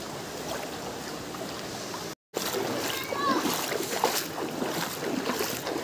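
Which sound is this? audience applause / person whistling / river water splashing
river water splashing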